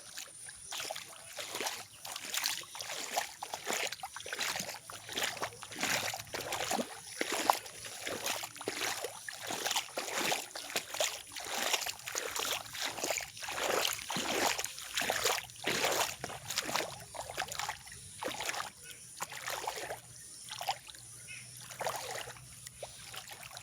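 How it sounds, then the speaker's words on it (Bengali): Water flows through a full drain, giving a soft, steady rushing slosh with rhythmic surging pulses, fairly faint and with no one talking. "নালা ভর্তি জল যাচ্ছে।"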